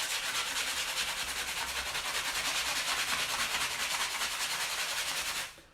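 A normal sanding block rubs back and forth in a rapid, even rasping rhythm, loud and close, continuing for several seconds before stopping abruptly.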